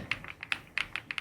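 Keystrokes on an Epomaker Galaxy100 mechanical keyboard, a quick irregular run of about ten crisp clacks, close and fairly quiet with no voice.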